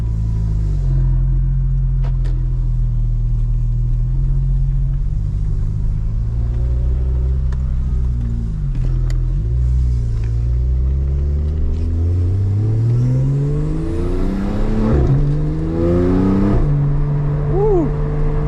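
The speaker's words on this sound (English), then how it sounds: "We are in the cockpit of a 911 Turbo S." Porsche 911 Turbo S engine heard from inside the cockpit, a loud deep rumble that rises and falls through several revving gear pulls, with a voice briefly over it.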